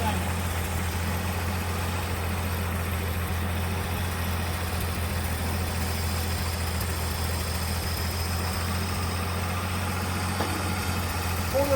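Engine of a 1979 Ford High Boy truck idling steadily and continuously, a low rumbling hum holding at an even level throughout with no revs.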